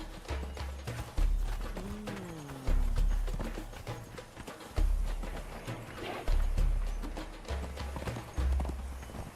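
Horse hooves clip-clopping in the game Conan Exiles, a run of heavy, regular hoofbeats in repeating bursts, with a brief whinny early on and no talk over them.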